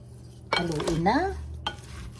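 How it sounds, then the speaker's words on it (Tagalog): Salad being stirred and tossed with sesame marinade, a single burst of soft utensil scraping and clinking against a bowl lasting about a second, close and fairly loud, followed by a fainter second touch. "Haluin na."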